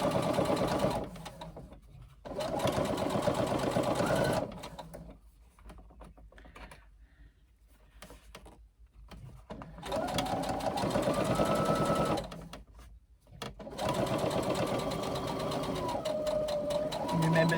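A sewing machine stitches a bag gusset in several bursts of steady mechanical whirring and rapid needle clatter, close and loud, separated by short pauses, with a person talking in between runs.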